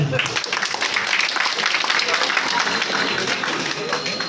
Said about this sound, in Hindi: बाप रे, इतने सारे लखपति लोग हैं, जोरदार ताली होना चाहिए